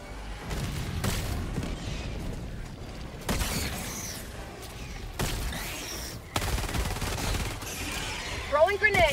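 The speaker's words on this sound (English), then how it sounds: "I don't even see them, I'm just blind firing." Blind gunfire in the video game Helldivers 2, bursts of rapid shots and booms in repeated loud clusters with brief lulls, mechanical clatter near the end.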